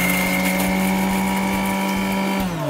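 A mixer grinder whirs loudly and steadily as it grinds dried chilies into flakes, a constant high motor whine that slows slightly toward the end.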